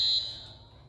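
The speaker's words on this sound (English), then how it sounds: "There's a fire alarm" A shrill, high-pitched fire alarm tone sounds loudly at the start, then cuts off quickly and leaves a faint ringing that fades away.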